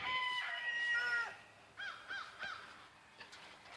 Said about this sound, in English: he is a beautiful rooster